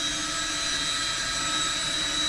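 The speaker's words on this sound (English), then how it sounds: "Another motor's running in the background." Engine drone from a model airplane at a giant-scale RC fly-in event, a steady loud continuous hum with a high whine that runs unbroken through the whole stretch.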